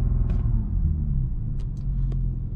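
An Audi S4/S5 3.0T engine holds steadily at launch RPM with a constant low rumble close by, with a few faint clicks and no talk.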